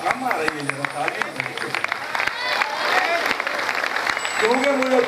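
Audience clapping at a Shrimad Bhagavat Katha religious discourse in Maharashtra, steady applause from the crowd with a voice heard over it at the start and end.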